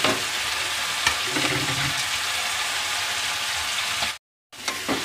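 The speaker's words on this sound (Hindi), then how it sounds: "सारे मसाले अच्छे से भूनना है, ताकि ये अदरक लहसुन कच्चा ना रहे" Spices frying with ginger garlic paste in a pan for Bengali-style chicken kosha, a continuous close sizzle with stirring scrapes, briefly cutting out before the frying resumes.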